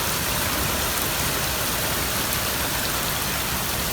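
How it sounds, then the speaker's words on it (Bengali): Heavy rain pours down outside, a loud, dense and unbroken hiss of drops on surfaces with no voices heard. "এরকম বৃষ্টি হচ্ছে আজকে।"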